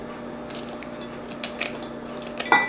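A knife cuts through cooked bacon on a cutting board with light, scattered taps and clicks of the blade striking the board, some scraping, fairly close and quiet over a low steady hum.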